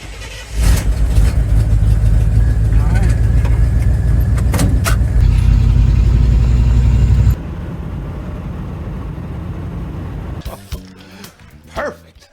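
A 1989 Chevy K1500 pickup on a test drive: loud, steady low engine and road rumble from inside the cab for about seven seconds, then a quieter cruising drone with a few knocks and rattles near the end.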